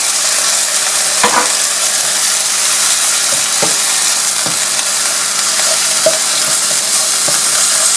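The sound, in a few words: egg frying and being stirred with spinach rice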